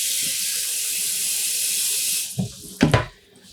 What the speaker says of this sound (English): So I'm just gonna add some water